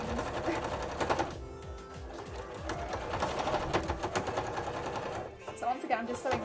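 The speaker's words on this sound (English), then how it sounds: "So once again, I'm just sewing really close to where I know the purple is" A sewing machine stitches a Re:Zero Emilia cosplay dress with a rapid, continuous mechanical chatter close by, easing briefly near the end, while a voice talks over it.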